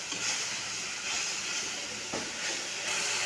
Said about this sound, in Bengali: সামান্য জল দিয়ে মশলাটা কষিয়ে নেব।